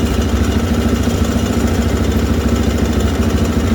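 A Polaris Sportsman 500 ATV engine idles slightly high after an idle adjustment, a steady, loud mechanical drone with a close, even rumble throughout and no talk.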